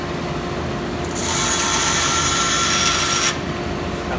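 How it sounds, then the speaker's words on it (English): A bandsaw cuts through a piece of bone for the bridge of a 1963 Gibson LG-1 acoustic guitar in a repair shop. It gives a steady, close, fairly loud grinding whine lasting about two seconds over the motor's running hum, with no talk. "I can saw through this bone on the bandsaw here."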